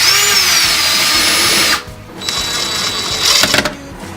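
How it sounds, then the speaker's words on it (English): A power drill whines at high speed boring pilot holes into a wooden door for a Kwikset lock, stopping briefly and then running again in short close bursts. "we're going to drill a few pilot holes."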